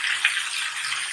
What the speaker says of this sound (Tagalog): lagyan natin ng isang basong tubig